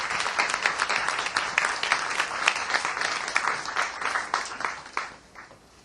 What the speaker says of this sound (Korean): 모두 뜨거운 박수로 환영해 주시기 바랍니다